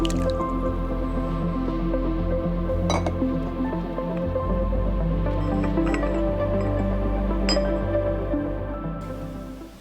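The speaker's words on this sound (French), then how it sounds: "versez maintenant le café dans la tasse" Coffee from an Aeropress trickles and drips into a cup in a close, continuous liquid stream, with a couple of faint clinks, tapering off at the end.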